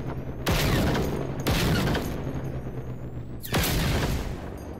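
Three loud bursts of gunfire in the video game Generation Zero, each a sharp crack followed by a lingering decaying rumble, spaced irregularly about a second or two apart.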